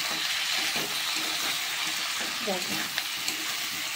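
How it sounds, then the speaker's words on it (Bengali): Chicken pakora masala with Kashmiri chili powder and a little sugar sizzles steadily in a pan while it is sautéed, with a brief spoken word and occasional stirring scrapes. "তো বন্ধুরা আমি এইটাকে ভালো করে কষবো।"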